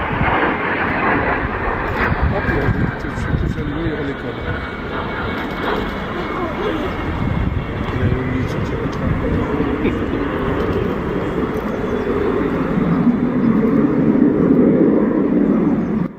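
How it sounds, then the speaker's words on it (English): A Fouga CM-175 Zephyr jet pulls up into a go-around just above the runway, a sustained engine whine and rumble with wind noise that grows louder near the end. "As the aircraft was just about to touch the runway, he realized it and quickly initiated a go-around, narrowly avoiding a gear-up landing."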